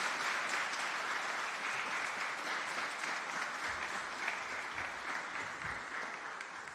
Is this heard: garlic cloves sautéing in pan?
no